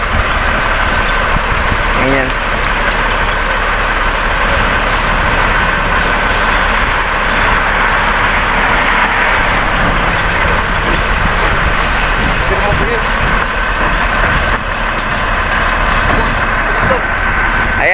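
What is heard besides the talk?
ready-mix concrete truck arriving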